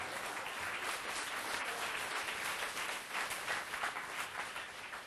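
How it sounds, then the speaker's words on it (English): Audience applause at an event about a first woman president, a steady wash of many hands clapping at moderate distance for the whole stretch, with no speech. "You got that applause about right where I expected it to be."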